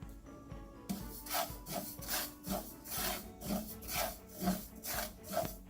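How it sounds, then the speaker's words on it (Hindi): Poppy seeds are roasted in a pan for winter dry-fruit laddu, with a spatula scraping and stirring them in a steady, rhythmic back-and-forth rasp, close and alone. "ये जो खसखस है, इसको पपाया सीड्स भी बोलते हैं, इसको हम भून लेंगे।"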